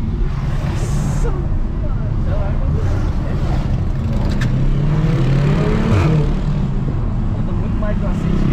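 A BMW 118i with a four-cylinder engine accelerating through a gear change, a loud continuous engine drone that rises in pitch and briefly dips at the shift, heard from inside the car while people talk excitedly.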